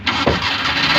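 A car engine, an F5A six-valve unit being tested after repair, catches and starts with a quick crank burst then settles into a loud, close, rough idle.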